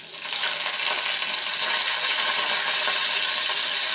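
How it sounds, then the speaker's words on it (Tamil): Mustard seeds and urad dal crackle and sizzle in hot oil for a drumstick poriyal, a steady dense hiss with fine popping that stays loud and continuous throughout, with no voices. "இப்போ இதுக்கு கடுகு உளுந்து போட்டுக்கிறேன் கடுகு உளுந்து போட்டாச்சு"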